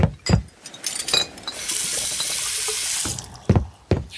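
Tap water pours into a glass in a steady stream for about a second and a half, framed by brief clinks and handling clatter before and after.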